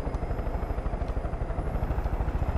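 Helicopter in the video game Far Cry 5, a rapid pulsing rotor thump with a droning engine whine, steady and fairly close, with no talking.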